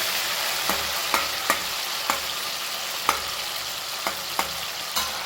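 Chana dal frying in a pan for vaghareli khichdi, a steady close sizzle with stirring, light scraping clicks recurring roughly every half second to second throughout.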